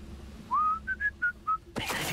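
A person whistles like a referee: one rising drawn-out note, then four short sharp blasts, loud and close, cut off by a sudden burst of broadband noise.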